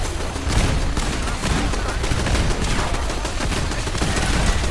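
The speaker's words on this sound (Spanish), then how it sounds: "¿Quién me dispara?" Relentless, loud turret gunfire in Fallout 4 during the battle of Bunker Hill, a continuous dense fusillade of overlapping shots filling the whole stretch.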